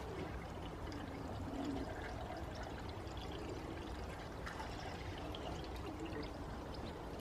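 Deionized water pours steadily into the coolant system of a BMW E46, a faint continuous trickling gurgle with no talking.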